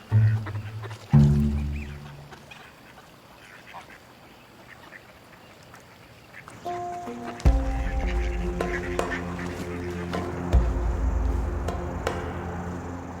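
Loud duck quacks burst out near the start as a harrier hunts it, followed later by splashing and flapping with more quacking amid busy urban outdoor noise in Arabia.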